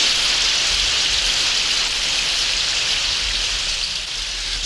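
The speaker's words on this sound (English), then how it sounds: "The rain was coming down like it was trying to wash us away" Heavy rain pours in a dense, steady hiss with no letup, loud and enveloping and free of any voices.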